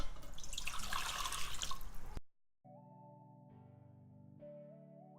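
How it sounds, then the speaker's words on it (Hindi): Water gushes into a cooking pot for beef yakhni pulao for about two seconds, a loud, rushing pour that cuts off abruptly, followed by soft background music. "इसमें हमें 4 कप पानी चाहिए होगा। मैं पानी शामिल कर देती हूँ।"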